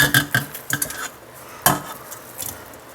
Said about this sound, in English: Dump the cauliflower wings into the pot.